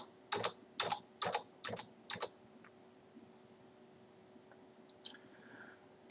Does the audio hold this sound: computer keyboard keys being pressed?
yes